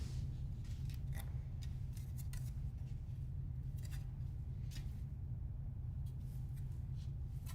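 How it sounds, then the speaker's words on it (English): Mechanical keyboard being assembled, a series of sharp, scattered clicks and snaps from parts being handled and fitted, irregular in rhythm and close by, over a constant low hum. "hopefully you can fall asleep to the sounds of some keyboard building"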